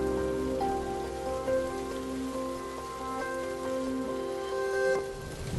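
Rain falling onto an airport runway, a steady even hiss of drops at moderate loudness with faint tonal hum underneath and no speech.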